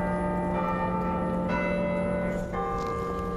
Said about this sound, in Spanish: con un silencio que solo era acompañado por campanadas